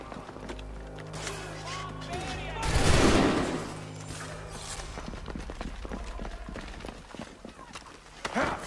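A musket volley fires in the Assassin's Creed III video game, a single loud crashing burst that stands out from continuous busy battle noise and fades back into it.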